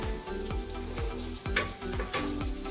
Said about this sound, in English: Now I added a whole butter and melt it